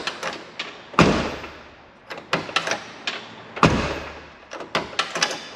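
A car door with a newly fitted latch, on a truck with no interior handle, is worked open and shut. Several sharp thumps and clunks come close and loud, with smaller rattling taps between them.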